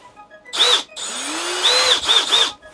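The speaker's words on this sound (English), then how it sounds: "So I'm gonna take this magnet and tape it to the end of the drill and then try to spin it really fast" A power drill with a magnet taped to its end spins up in short bursts, a whining motor that starts, stops and revs again several times, loud and close.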